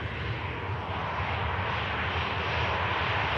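A Ryanair Boeing 737 jet roars steadily at an airport, its broadband engine noise loud, sustained and even throughout, with no voices over it.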